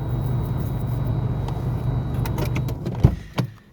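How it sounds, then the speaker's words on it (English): Parked car with its engine idling in a steady low hum, then shut off near the end, followed by a few sharp clicks and clunks of keys or the door. "I didn't know how long I was going to be able to keep the car running"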